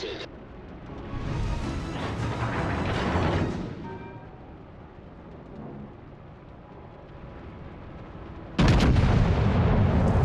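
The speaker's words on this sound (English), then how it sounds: "Concentrate fire on that enemy warship." Warship guns firing in World of Warships: Legends, heavy booming salvos that swell loud near the start and again at the end, with a lower rumbling stretch in between.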